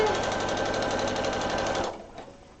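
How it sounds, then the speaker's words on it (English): A sewing machine runs a straight basting line at its longest stitch length, a loud steady whirring hum with rapid needle clatter for about two seconds before stopping abruptly, leaving quiet room tone. "that's where we're gonna stop our machine basting"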